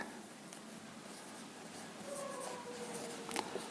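Marker or chalk writing on a board during an optics lesson, a faint scratchy rubbing with short squeaky strokes near the end, quiet and close, with no talking.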